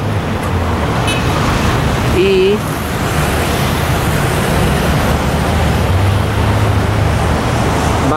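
Steady road traffic rumbles near overpass construction works at Óvalo Monitor Huáscar in La Molina, a continuous dense roar of passing cars and buses with a brief horn-like tone, while someone talks over it.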